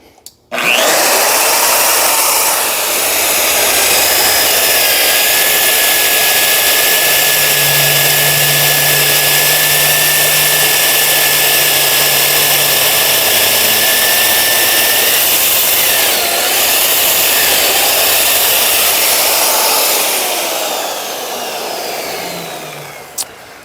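A budget magnetic drill bores into steel during a C5500 dump truck build, giving a steady, loud grinding whine with a faint low hum partway through, running close and alone for over twenty seconds.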